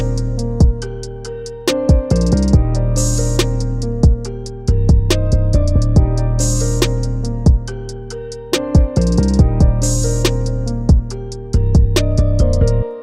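Full hip hop beat in a trap style, with booming 808 bass, hard kicks, snares and rapid hi-hats looping over a melodic layer. It plays loud and steady for the whole stretch, with brief drop-outs and re-entries, and no one talks.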